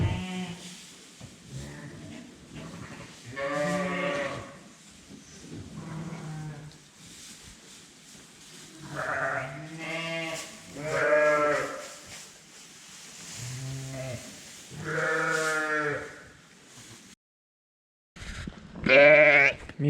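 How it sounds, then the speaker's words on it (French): Ewes and their single lambs call in a farm lambing shed on a cold winter day, giving a series of loud, close, drawn-out bleats at irregular intervals with short quiet gaps between them. "ici c'est les brebis qui ont qu'un seul agneau"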